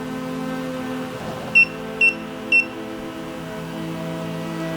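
A K2 EMF meter in a video game gives three short, bright beeps in quick succession, clearly above a low, steady ambient hum.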